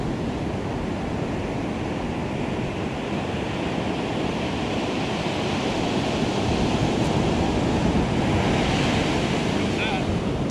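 Ocean surf breaks on a chilly morning beach, a steady loud wash of crashing waves with wind buffeting the microphone, close and continuous.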